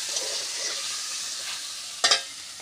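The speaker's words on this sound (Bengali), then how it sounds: "মা রান্না বসিয়ে দিয়েছে, বললো আমাকে করতে, উনি ফোড়ন বসিয়ে দিয়েছে" Spices sizzling in hot oil for a Bengali phoron tempering, a steady close hiss and crackle with a sharp louder spatter of bursts near the end.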